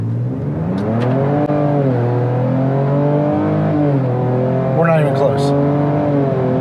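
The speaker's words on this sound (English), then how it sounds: "So we're trying to give it a little 0 to 60 hit." A Ford Ranger Raptor pickup with a Ford Performance ProCal tune accelerating hard from a standstill to 60, heard from inside the cab as a loud engine note rising through the gears with brief dips at each shift while someone talks over it.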